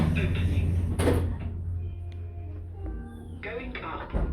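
Lift doors at Sutton Town Centre in Greater London open with a short clunk and a brief whooshing slide, followed by quieter mechanical ticks and hum, while a voice speaks over it.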